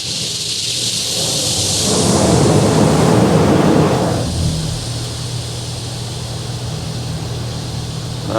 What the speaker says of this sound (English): Hopefully this car wash is gonna let us know.